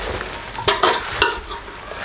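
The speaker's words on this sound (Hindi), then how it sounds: "इसको मैं 3-4 मिनट अच्छे तरीके से मिक्स करूंगा ताकि मसाला हर जगह पे लग जाए अच्छे तरीके से।" Mango pickle being mixed with spices for a traditional homemade achar, giving soft stirring and scraping with a few brief clinks against the pot, no voices.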